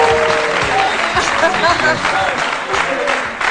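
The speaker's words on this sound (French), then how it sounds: "On applaudit très fort pour lui dire au revoir." Studio audience on an Ivorian midday TV show applauding a departing guest, a steady wash of clapping from a crowd under lively voices.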